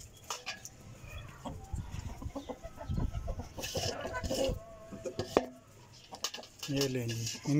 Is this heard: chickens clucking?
yes